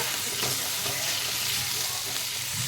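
Potato pieces fry in oil with onion, ginger and garlic for a chicken dish, giving a close, dense, continuous sizzle with light stirring.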